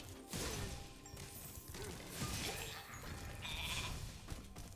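Sheep bleating in the video game Spyro Reignited, several short bleats over busy game sounds and clatter, with no talking.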